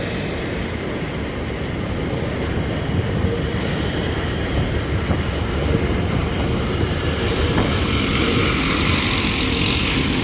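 Subway trains rumble through Simpson Street station with a dense, loud, continuous roar and rising screechy rail noise, with no voices over it.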